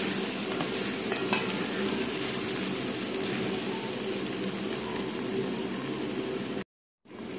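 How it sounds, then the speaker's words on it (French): Eggplant sauce bubbles and sizzles steadily in a pan as it is stirred, a continuous close crackling simmer that cuts out abruptly just before the end. "On va bien remuer. On laisse mijoter pendant 2 minutes."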